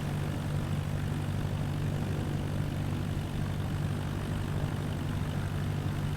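A small propeller aircraft in Microsoft Flight Simulator 2020 taxis with its engine droning at a steady, even idle, a low rumble and hum that fills the whole stretch without change.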